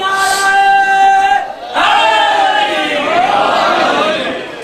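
A large crowd chants religious slogans in unison at a Muharram majlis, loud and sustained with one brief dip in the middle before the chant resumes.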